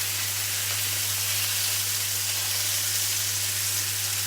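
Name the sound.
chicken breast sizzling while frying in pan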